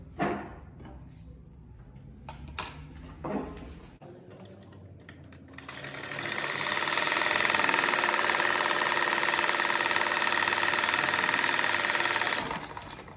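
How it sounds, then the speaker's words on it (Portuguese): A sewing machine stitches fabric for a simple cat-shaped door stop. Its steady, fast mechanical whir runs loud and continuous for several seconds after a few sharp handling clicks and taps. "E agora eu passo uma costura."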